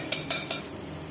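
Gram flour batter being poured into sugar syrup and stirred in a pan for besan barfi, three quick scraping stir strokes close up, then a quiet bubbling hiss.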